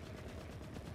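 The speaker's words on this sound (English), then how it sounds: "I hear shooting." Gunfire in the video game The Forever Winter, a rapid, dense burst of automatic shots that sounds muffled and distant, continuous through the brief moment.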